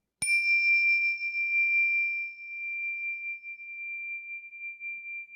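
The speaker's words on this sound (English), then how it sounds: "by the ringing of this bell" A single bell is struck once at the start of a guided meditation, its clear high tone ringing on and slowly decaying across several seconds, alone with no voice.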